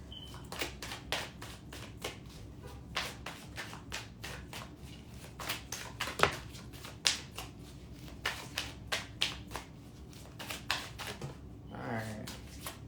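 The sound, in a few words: shuffling a deck of cards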